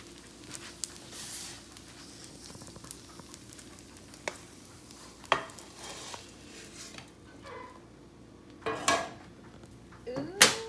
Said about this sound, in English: So, and just repeat. Let it fry up.